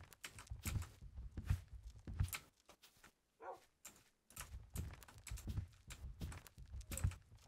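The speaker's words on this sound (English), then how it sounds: "I really don't like this walking sound in this sound pack" Footsteps from a custom Minecraft sound pack, a quiet, evenly spaced series of soft thuds walking along with a short pause midway.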